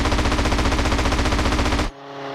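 Sustained rapid automatic gunfire in GTA San Andreas, a loud continuous burst of dense rhythmic shots that cuts off sharply near the end, leaving a low hum.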